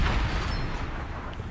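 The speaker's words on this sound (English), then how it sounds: "give one bomb for you, one bomb for you, one bomb for you, and a bunch of rockets for you" Bombs and rockets bursting in War Thunder Mobile during a bomber run, a dense continuous rumble of booming explosions with no pauses between blasts, loud and low-heavy throughout.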